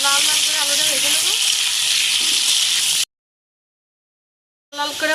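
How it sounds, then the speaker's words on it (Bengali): Potatoes frying in hot oil in a pan for a fish curry, a steady bright sizzle that runs loud and close, cuts out briefly, then resumes. "আলুটা একদম লাল লাল লাল করে আলুটা ভেজে নেবো।"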